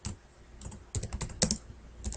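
Quiet keystrokes on a computer keyboard in a small apartment, a short uneven run of soft clicks and taps close by.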